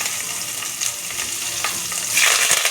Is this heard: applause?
no